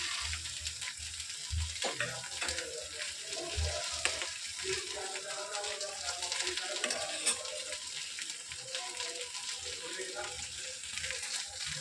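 Long Ratlami sev stirred into a boiling curry for sev bhaji, a soft continuous bubbling simmer with intermittent stirring and faint metallic scrapes, quiet and close, no talk over it.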